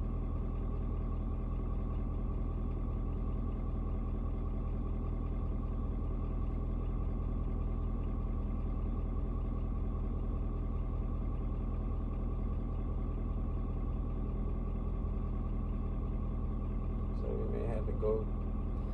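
A Ford Super Duty 6.7 diesel truck engine idles steadily after a cold start on a 56-degree day, a constant low rumble that holds unchanged throughout with only a faint brief disturbance near the end.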